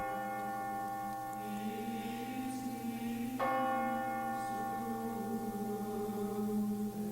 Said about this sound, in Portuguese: Dobraram os sinos